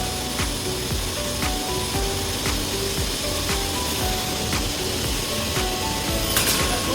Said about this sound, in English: TS-J39 PQJ automatic cutting machine